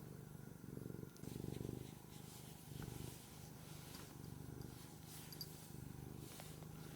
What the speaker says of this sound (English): Hopefully you guys didn't hear her purring the whole time.